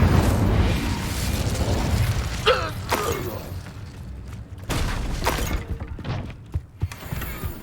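The Incendio fire spell is cast in Hogwarts Legacy: sharp fiery bursts and crackling whooshes rise over a low, rumbling game backdrop, followed by a few scattered pops.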